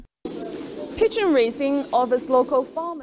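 Pigeons at a pigeon-breeding farm in Shache district coo in a close, clear series of throaty, warbling calls lasting a few seconds.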